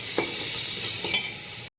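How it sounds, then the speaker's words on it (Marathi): Garam masala and pulao masala sautéing in a hot pan, a steady close sizzle with two quick scrapes of a stirring spoon, no voices. "गरम मसाला आणि हा पुलाव मसाला घालते आणि चांगलं परतून घेते"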